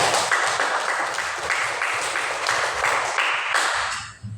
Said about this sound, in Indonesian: Berikan dulu tepuk tangan untuk kelompok 3.